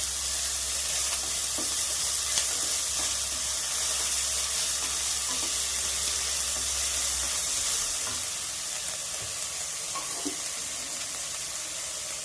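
Mustard seeds and chopped onions sizzle in hot oil for egg bhurji, a steady, close frying hiss with occasional stirring scrapes and no voice.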